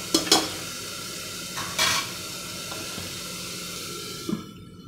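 Arbi and nenua sabzi frying in a pan, with a steady sizzle and a few sharper scraping stirs near the start and middle before the sound cuts off.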